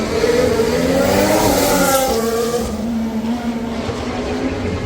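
Formula 1 race cars roar past at the Singapore Marina Bay street circuit, with a loud, steady high-revving engine whine whose pitch sweeps and shifts as the cars pass close by.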